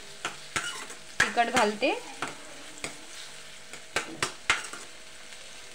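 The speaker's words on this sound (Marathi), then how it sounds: "म्हणजे टोमॅटो टाकते तेलात, अर्धवट कांदा होऊ दिला." Tomatoes and half-cooked onion frying in oil in a home kitchen pan, a soft sizzle with repeated stirring clacks of a spoon against the pan; someone speaks briefly over it.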